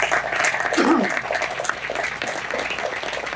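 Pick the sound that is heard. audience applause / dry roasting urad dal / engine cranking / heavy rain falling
audience applause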